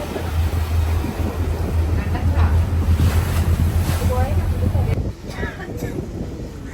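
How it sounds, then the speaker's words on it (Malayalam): A government passenger boat's engine drones steadily on a backwater lake in Alappuzha, Kerala, beside lapping water and wind, then cuts away near the end; voices talk over it. "ഇതാണ് കേട്ടോ നമ്മുടെ ഗവൺമെന്റിന്റെ ബോട്ട്"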